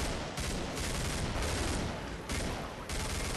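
Rapid gunfire in the video game Killing Floor, a dense and loud continuous volley of shots with brief bursts and no voices.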